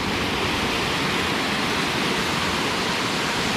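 Putsari Waterfall in Karbi Anglong, set amid green forest, pours in a loud, constant roar of rushing water that fills the whole stretch without a break.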